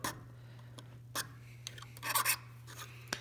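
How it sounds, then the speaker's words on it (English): Metal file lightly smoothing a cut ring shank, soft scattered rasping strokes with a few brighter scrapes, faint and close in a quiet room. "So I'm just lightly filing it so that it looks like"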